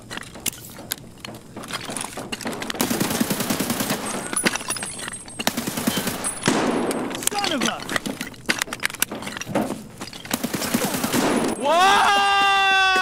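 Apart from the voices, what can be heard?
gunfire in the video game Escape from Tarkov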